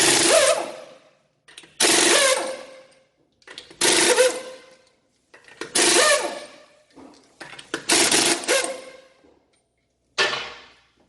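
An impact wrench removes a front wheel from a Honda Odyssey, firing six loud, rattling bursts, each about a second long, separated by short silences, close to the microphone.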